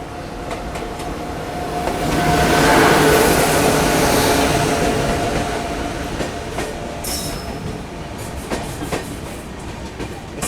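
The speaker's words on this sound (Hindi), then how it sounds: "इधर हमें ओवरटेक करेगी पटना कोटा एक्सप्रेस" At Bhita station, the Patna Kota Express rolls past with a broad rumble and rattling wheels. The noise swells as it nears and gives way to sharp clicks and faint squeals as the coaches go by.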